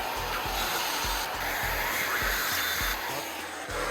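Screws being driven by hand into a wall to fix EasyBrackets for a DIY acoustic panel, a steady scraping, grinding rub with repeated low thumps at regular intervals, close and continuous, with no talking.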